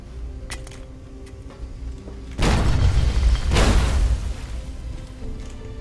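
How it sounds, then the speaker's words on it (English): A loud grenade explosion in Fallout: Tale of Two Wastelands, a single heavy boom that sustains and rumbles for about two seconds with a second surge partway through, then fades into ambient noise. "I'm just gonna throw a grenade over there"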